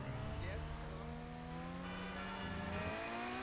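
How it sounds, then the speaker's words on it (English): Car engine droning steadily in a PS4 driving game, its tone rising and shifting as the car pushes on, with faint tire noise and a voice talking quietly underneath. "I'm going to go for a leisurely drive in my car"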